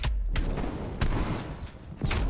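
A shotgun blasts in Call of Duty: Black Ops Cold War. Four loud, booming shots come roughly half a second to a second apart, with no talking over them.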